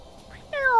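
A short cat meow rises out of near-silence in the second half, a single clear tonal cry that bends downward, fairly close and alone with no talking over it.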